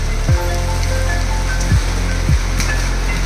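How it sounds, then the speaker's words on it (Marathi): First monsoon rain of the season falls in Konkan as a steady, loud patter on nearby surfaces, with a few low whooping sweeps passing through and no speech. "पहिल्या पावसाचा आनंद घेताना"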